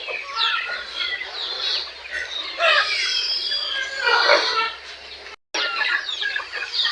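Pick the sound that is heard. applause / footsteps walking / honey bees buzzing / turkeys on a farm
turkeys on a farm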